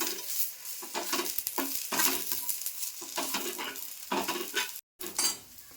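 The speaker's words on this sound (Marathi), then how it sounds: "हे आता दोन मिनिट परतून घेते" Prawn masala with onions is sautéed in a pan in the Malvani style, giving a soft, steady sizzle broken by repeated scraping strokes of a spoon against the pan, close and moderately quiet.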